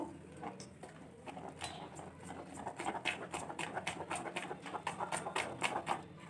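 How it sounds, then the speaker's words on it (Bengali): Chilli bajji batter whisked in a bowl, making quick, irregular wet clicks and taps of utensil against the container. The sound is fairly faint, close and continuous, and no one speaks. "খুব ভালোভাবে এটা আমি ফেটিয়ে নেব।"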